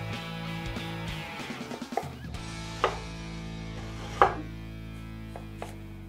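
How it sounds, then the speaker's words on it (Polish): Knife cutting through a whole onion on a board: a few distinct chopping knocks spaced a second or so apart, close and crisp, over a steady background hum. "Teraz pokroimy trzymając całą cebulę."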